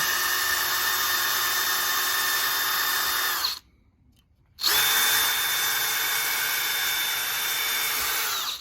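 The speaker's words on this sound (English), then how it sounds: "So I'm just going to drill a hole right through." A power drill bores a hole through the join of a sail batten, whining at a steady high pitch for a few seconds, stopping briefly, then spinning up again and running on, loud and close.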